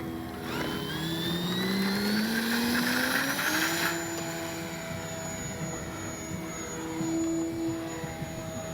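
An E-flite Cherokee RC airplane flies overhead, its motor whining steadily and rising in pitch as it speeds up, then holding a sustained drone that shifts slightly as the plane passes at a moderate distance.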